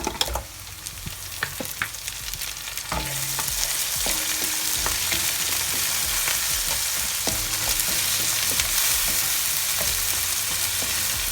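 Onions frying in a pan start with stirring clatter, then a loud steady sizzle rises as ginger and garlic cubes are added, with a few utensil scrapes along the way.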